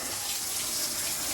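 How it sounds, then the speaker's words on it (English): Water streams steadily from a garden hose after a throttle and gear cable replacement, a constant broadband hiss of spray held at an even, fairly close level throughout with no voices. "Got the water hose on."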